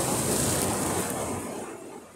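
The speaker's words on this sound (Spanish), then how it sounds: "Tenemos el mismo día de ayer con mucha mala mar." Rough, choppy sea surging steadily close by, with broad waves washing and crashing under gusty wind buffeting the microphone, heard from a fishing boat off Málaga; no one speaks.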